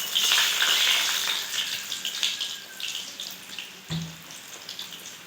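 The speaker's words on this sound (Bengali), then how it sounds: "উল্টিয়ে পাল্টিয়ে ভালো করে ভেজে নেব।" Stuffed palm pitha deep-frying in plenty of hot oil, a close, steady hissing sizzle that is loudest at the start and eases off, with a brief thud of the pan near the end.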